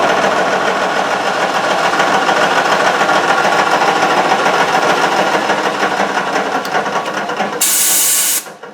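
A metal-style lathe set up for wood takes a spring cut with a boring bar, giving a steady, loud machining whir with hiss and a rhythmic mechanical chatter throughout, tapering off at the very end.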